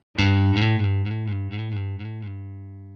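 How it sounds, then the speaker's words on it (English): A single sustained note from a Scarbee Rickenbacker 4003 sampled bass with a rapid buzzing trill, the pitch wobbling as a finger slides quickly back and forth, ringing out clearly on its own. "And you can obviously hear the finger sliding up and down."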